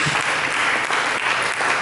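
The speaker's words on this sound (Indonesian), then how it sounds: "Mari kita berikan tepuk tangan bagi Yesus." Dense applause from a church congregation during a sermon, steady, close and loud throughout, with no voices over it.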